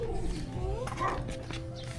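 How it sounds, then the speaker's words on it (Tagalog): A dog in a crowded neighborhood of Rizal Aplaya, Poblacion, Muntinlupa gives short whiny yips and whimpers nearby, mixed with people talking in the background. "Doggy."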